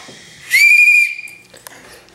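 A toy whistle is blown once in a single loud, shrill blast lasting about half a second, followed by a faint tail and light background noise at a child's birthday gathering.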